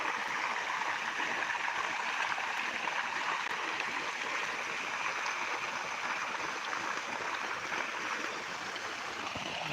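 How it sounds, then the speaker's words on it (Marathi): Irrigation water flows steadily into a wheat field with a continuous rushing, trickling hiss, close by and uninterrupted, with no one talking. "बघा पाणी कसं चाललंय झुळ झुळ झुळ झुळ झुळ"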